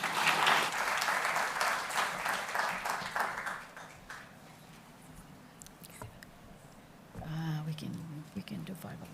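A conference audience at an urban forestry forum applauds a provincial official arriving on stage; the clapping starts full, thins and fades within a few seconds, leaving quiet room noise before a voice speaks.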